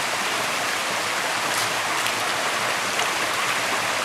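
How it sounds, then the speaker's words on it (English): Water rushes and splashes steadily while sand is washed off a sluice carpet in a bucket during gold prospecting, a continuous close hiss with no talk. "The carpet goes into the bucket, and I wash the rest of the sand"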